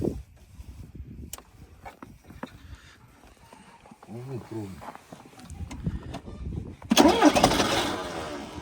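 An MTZ tractor engine is started in hard frost: voices talk near the machine at first, then the engine suddenly cranks and catches with a loud, rough roar for the last seconds.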